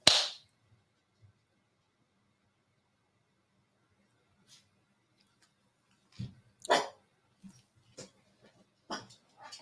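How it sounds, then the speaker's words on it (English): A dog barks nearby outdoors: a sharp single bark at the start, then quiet, then a cluster of several barks in the second half, with faint voices in between. "What are you barking at?"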